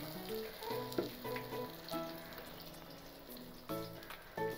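Marinated black pomfret fish frying in hot oil, a quiet background sizzle with scattered clinks and knocks of utensils and pan, faint and close.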